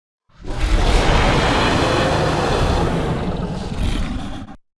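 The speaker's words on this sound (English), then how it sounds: "I have also gone into this dragon roar layer and I have pitched it down just a little bit." A single massive, growling dragon roar, slightly pitched down, blasts for several seconds, deep and rough, then cuts off abruptly, like a monster creature sound effect.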